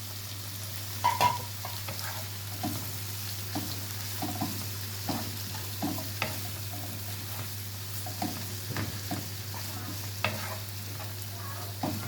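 Yellow, green and red bell peppers frying with onion in a pan, a steady sizzle with a low hum underneath and repeated spatula scrapes and taps at an irregular rhythm.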